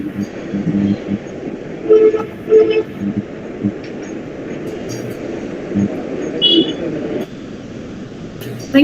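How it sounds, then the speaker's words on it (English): Several car horns honk amid steady traffic rumble in the background of a call, short toots repeating irregularly at moderate distance, with voices talking over the noise. "I'm able to hear a lot of horns and traffic"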